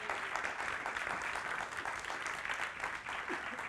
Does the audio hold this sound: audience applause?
yes